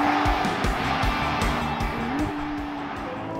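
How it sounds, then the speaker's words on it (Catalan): A Ferrari 296 GTB's V6 engine revving hard, a loud rising mechanical howl with rhythmic pulses from gear changes, recorded from inside or close to the car, with no talking. "aquest motor V6, quan el puges de voltes, sona com un V12"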